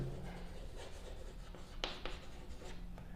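Marker or chalk strokes on a classroom board during a physics lesson, a few brief scratchy squeaks standing out against steady low room hum, close and moderately faint.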